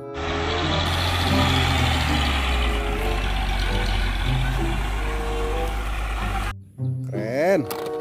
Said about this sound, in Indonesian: Mobil derek.